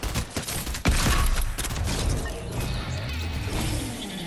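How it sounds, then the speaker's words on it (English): A charged shotgun fires in Fortnite, giving a few sharp, loud blasts in the first second, followed by a dense rumbling clatter of in-game noise. "He had a charged shotgun."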